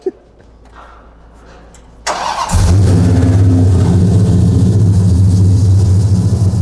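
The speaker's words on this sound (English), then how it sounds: "See what I mean about that supercharger? It sounds good" After a quiet moment, a supercharged car engine cranks and roars to life, then settles into a loud, steady, rumbling idle up close.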